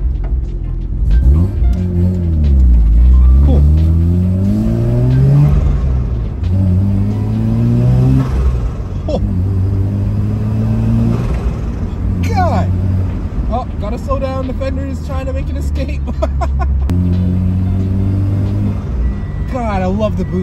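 A rotary-swapped Subaru BRZ running an RX-7 13B engine pulls hard under boost, its loud, close engine note rising and falling through repeated revs with a steady rumble throughout, while a person talks over it.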